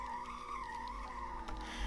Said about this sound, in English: As you can see, I'm doing donuts.